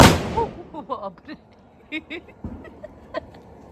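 Firecrackers on New Year's night pop and crack in scattered, uneven bursts, some sharp and close, others duller, while people talk and call out between the bangs.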